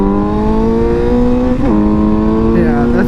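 A 2019 Suzuki GSX-S750 motorcycle engine revs loudly and up close, holding a steady high-pitched whine with brief dips and shifts in pitch.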